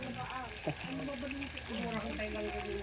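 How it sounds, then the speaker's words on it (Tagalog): Tukling deep frying in hot oil gives a continuous sizzling hiss beneath people talking nearby, the frying noise steady and moderately loud throughout. "deep fry na tayo ngayon"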